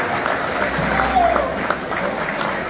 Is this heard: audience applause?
yes